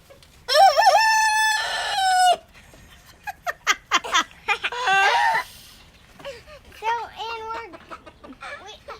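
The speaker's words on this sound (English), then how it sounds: "he started crowing, and it's the funniest crow" A roughly three-month-old rooster crows several times in thin, wavering, cracking calls, with short clucks between them, close and loud.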